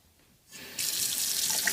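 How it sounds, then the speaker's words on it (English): Water gushes from a newly installed faucet into the sink of a freshly renovated kitchen. It starts with a soft rush that swells into a strong, steady, close hiss as the flow opens fully. "And then the faucet."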